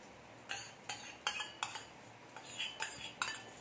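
A spoon clinks and scrapes against a bowl in a series of about eight quick knocks. It is mixing boiled jackfruit and potatoes with yogurt. The sound is faint and close, with no talking.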